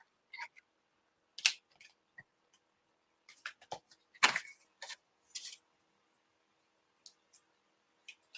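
Die cut being cut out for handmade cardmaking, heard as scattered quiet snips and clicks with gaps between, small crisp paper-cutting sounds close by and no talking.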